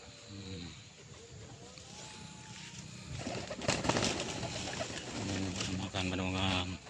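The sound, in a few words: pigeons feeding in a coop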